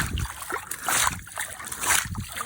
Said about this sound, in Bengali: নৌকাতে কিভাবে পানি পরিষ্কার করতে হয় সেটা দেখাই। এই যে এইভাবে খোলা নিয়ে এবার ছেঁচে দিবে।